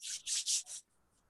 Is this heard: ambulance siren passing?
no